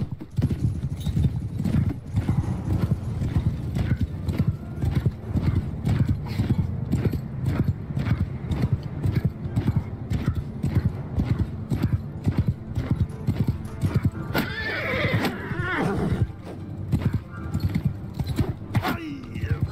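Cavalry horses gallop in the Mount & Blade II Bannerlord video game, a dense, continuous drumming of hooves throughout, with neighing and battle noise rising near the end and someone speaking at points.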